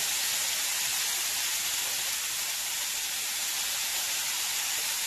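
Garlic butter chicken sizzles steadily in a grill pan, a loud, even hiss of frying fat that holds without a break and has no talking over it.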